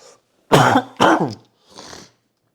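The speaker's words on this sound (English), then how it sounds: "Because of an errant cough" A person gives two harsh, close coughs in quick succession, then clears their throat more softly a moment later.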